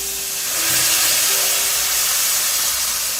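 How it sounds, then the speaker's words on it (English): Hot water poured into a pot of Jamaican brown stewed chicken sends up a loud, steady hiss of steam, swelling after the first half second and holding strong throughout with no talking. "And now I'm going to be adding some hot water."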